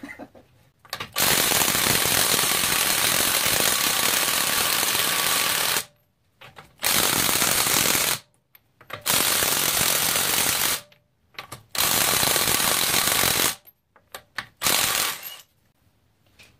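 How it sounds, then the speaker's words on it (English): A compact impact wrench hammering on a car wheel during wheel removal: several loud, harsh rattling bursts of a few seconds each, separated by short silences, close and with no talk. "Yeah, this impact, I love this thing. It's so compact, it really fits into tight places, and it just has a lot of power for its size."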